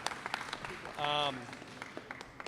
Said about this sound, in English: Let's give a round of applause for the phenomenal coach, John Calapari